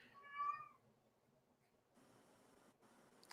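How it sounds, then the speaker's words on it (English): A pet cat gives one clear, rising meow near the start over a quiet room, followed by low background hiss and faint rustling; no speech. "Apparently my cat wants to be vocal today."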